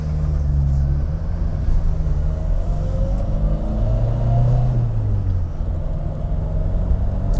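A Triumph Herald 1300 car cruising at speed on a dual carriageway, its engine giving a steady, loud low rumble with a rising drone as it holds pace with traffic, heard continuously from inside the car.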